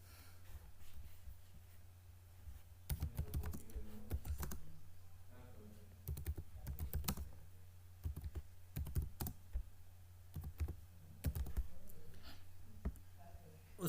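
Computer keyboard typing in bursts of quick clicks during online form filling for an O level computer course registration, fairly close, with a steady low hum beneath and no talking.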